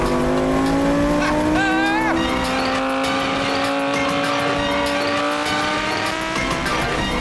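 A Lamborghini Gallardo V10 held in second gear, its engine note climbing steadily in a loud, continuous rising rev with a voice briefly over it.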